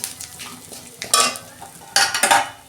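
Spices with ginger and hing sizzle in hot oil for a lentil dish, with a steady fry hiss under louder bursts of metal spoon scraping and stirring against the pan, close by.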